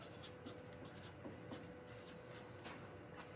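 A pen scratches out a name on the front of a paper bag, with soft, close strokes and light rubbing in a quiet room, faint and intermittent.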